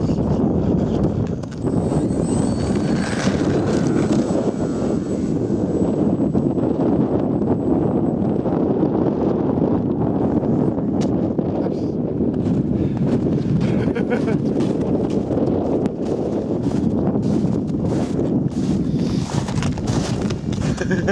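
Strong gusty wind buffeting the microphone at a model airplane flying field, a loud, steady roar with rumbling low-end bursts throughout, a voice briefly heard beneath it.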